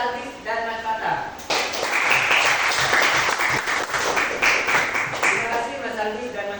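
Group applause for Mas Aldis and Mas Fatah in an Indonesian classroom lesson on tajwid, a dense, steady burst of clapping that starts about a second and a half in and carries on, with a voice heard just before it.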